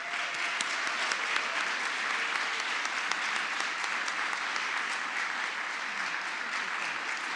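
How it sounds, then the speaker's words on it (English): Steady, sustained applause from an audience at a Jewish Family Services annual meeting, honoring a community service award recipient; dense clapping continues evenly throughout with no talking. "Please join me in a round of applause"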